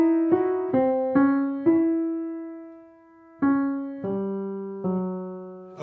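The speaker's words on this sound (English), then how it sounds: "the Romeo portion of the second theme has been altered to sound like this convoluted version" An altered, convoluted version of the Romeo theme from Tchaikovsky's Romeo and Juliet Overture-Fantasy unfolds as a slow sequence of separate sustained notes, each swelling and fading, with a long held tone in the middle, quiet and without talk.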